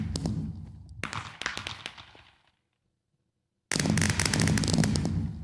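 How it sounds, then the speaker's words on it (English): Minecraft fireworks bursting in the video game, crackling rapid pops and bangs in dense clusters, a full silence of about a second, then another loud sustained crackling burst. "I just think the fireworks in Minecraft are amazing."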